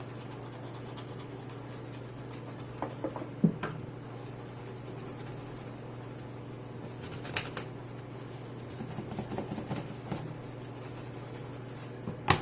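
Soft scratchy strokes of a crayon on paper, intermittent and faint, with a few small taps and rustles against a steady low hum.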